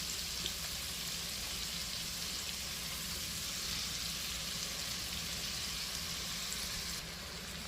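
Cajun-seasoned shrimp sizzle steadily in a pan over lowered heat, a dense, even frying hiss held close and loud throughout with faint stirring scrapes beneath, no voices.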